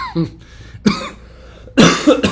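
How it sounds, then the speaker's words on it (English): A person with a lingering residual cough from an illness coughs several times in quick, separate bursts, close and loud, with short pauses between. "got a little residual cough here"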